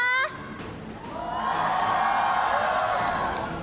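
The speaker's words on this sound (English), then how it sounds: "I think we want to hear the crowd one more time" A crowd at an esports arena grand final for Honor of Kings swells into loud, sustained cheering and whooping that builds after a brief opening call and holds steady.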